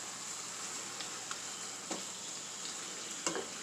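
Canned tuna stewing in a pan as filling for pickled stuffed chiles, with a steady broadband sizzle of frying and a few soft scraping stirs of a utensil around 2 and 3.3 seconds, close and moderately quiet, no talking.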